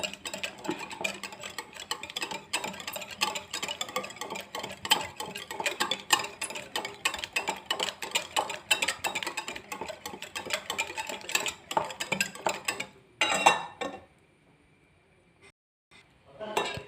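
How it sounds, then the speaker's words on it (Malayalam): Egg, butter and sugar being beaten together in a bowl for masala biscuits, a steady run of quick clinking utensil strokes for about thirteen seconds, then stopping abruptly into near silence. "മുട്ടയും ബട്ടറും പഞ്ചസാരയും നല്ലോണം അടിച്ചെടുത്തിട്ടുണ്ട് കേട്ടോ"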